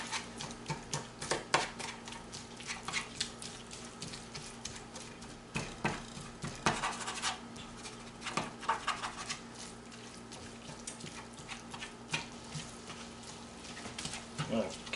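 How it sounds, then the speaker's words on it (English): Ground meat and yellow onion being stirred and broken up in a pot for Coney Island chili sauce, with scattered scraping taps and soft sizzling patter at close range while someone talks throughout. "continue to break this meat up and stir this all up real well together"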